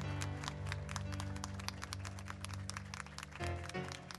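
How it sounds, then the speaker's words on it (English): A church congregation claps for a guest at a Sunday morning service, a faint, steady rhythmic patter of many hands keeping time throughout. "would you give him a hand clap, please?"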